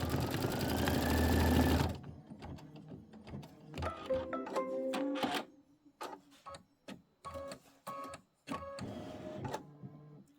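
An embroidery sewing machine stitches a log fill on a quilt block, a burst of fast whirring followed by irregular clicking and rattling stitch runs with short pauses between them.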